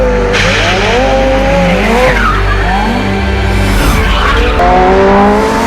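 A loud, aggressive McLaren supercar engine in a Need for Speed video game roars and shifts through gears, with audible induction, rising and falling revs and bursts of tire squeal, continuous and close.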